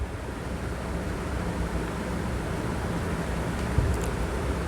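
Chopped onion and tomato sauté in a pan, a dense steady sizzle and hiss that stays even and close throughout, with a faint clink near the end.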